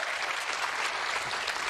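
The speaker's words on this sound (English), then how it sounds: "Let's give a round of applause for everybody who came out on stage today" Audience applause at a PAX East 2026 Gearbox showcase, a dense, steady wash of clapping from a large crowd that fills the whole stretch without a break.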